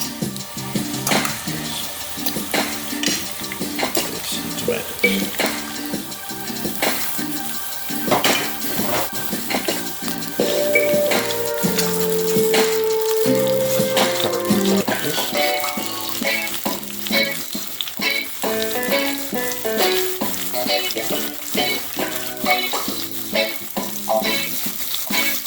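Garlic, scallion and tomatoes fry in a pan for Jamaican-style curry beef, with continuous loud sizzling and repeated clinks and scrapes of a utensil against the pan while stirring, and no voices.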